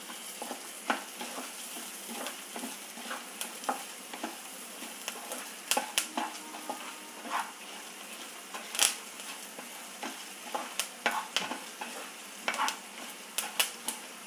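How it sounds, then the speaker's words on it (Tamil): Curry leaves and spices fry in oil in a pan for a South Indian dish, a continuous soft sizzle broken by frequent crackles and stirring scrapes, close and fairly quiet, with no talking. "எண்ணெயில் நல்லா வதக்கி விட்டுட்டோம்."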